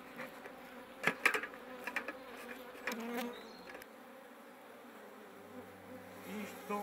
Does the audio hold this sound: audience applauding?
no